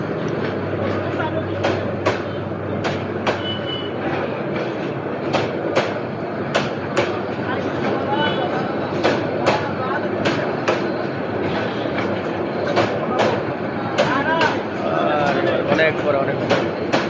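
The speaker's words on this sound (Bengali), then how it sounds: "নাম হচ্ছে সোনার বাংলা এক্সপ্রেস এই ট্রেনটা" The Sonar Bangla Express rolls past loudly and close, its wheels beating a steady run of clacks over the rail joints as a person talks over the noise.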